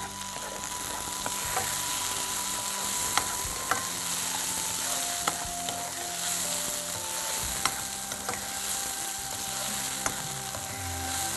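Onion and tomato cook together in a pan for a Dhansak kofta curry, giving a steady, soft sizzle with faint scattered ticks and clinks throughout.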